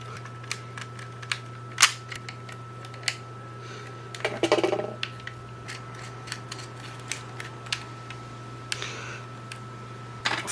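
Xbox Series controller parts being popped open during a repair, sharp plastic clicks and snaps scattered at irregular intervals with a short rattling scrape in the middle, over a steady low electrical hum.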